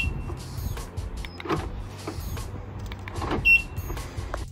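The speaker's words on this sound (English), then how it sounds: "when we lock our car, we can audibly hear that it is locked" A parked car is locked with an audible lock confirmation: a whirring power-window motor runs throughout, then a short bright electronic chirp sounds near the end, close and fairly loud.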